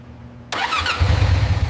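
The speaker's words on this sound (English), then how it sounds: "Engineers start the engine and carefully listen to every sound" A newly assembled premium motorcycle at a factory cranks and fires up, a sharp starter whir rising into a loud, close, rumbling idle with steady low pulses.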